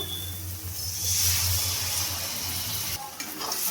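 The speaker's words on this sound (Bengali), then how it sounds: "ভালোভাবে এটাকে নাড়িয়ে নেব। ভালোভাবে নাড়তে হবে, নাহলে যেহেতু কাজু বাদাম আছে নিচে লেগে যেতে পারে।" Spiced cashew and chironji paste frying in a pan for soybean kofta curry, stirred steadily with a continuous close sizzle and faint scraping, with no talking.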